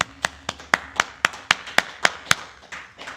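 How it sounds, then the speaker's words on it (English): Sharp hand claps ring out about a dozen times in a steady rhythm, close and crisp, with a faint low hum underneath. "clap it up"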